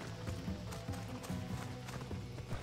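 A horse's hooves clip-clop at a steady gallop in the video game Assassin's Creed Odyssey, a close, continuous rhythmic drumming across the whole stretch.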